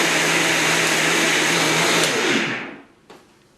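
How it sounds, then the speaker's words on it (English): A blender runs loud and steady, whirring through an anti-inflammatory smoothie with the lid on, then spins down and stops, followed by a brief clunk. "we just blended up our anti-inflammatory smoothie"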